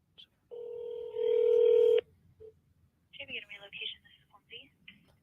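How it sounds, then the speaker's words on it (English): Touch-tone telephone dialing: a steady tone followed by a quick run of brief keypad beeps, close and clear, with soft speech after. "I might have dialed the wrong number."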